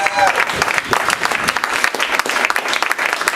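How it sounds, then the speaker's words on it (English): An audience at the Creative Alliance gives a live music act a round of applause, dense uneven clapping with a few whoops, loud and close throughout. "can you guys please give a big round of applause to Creative Alliance for allowing something like this to take place"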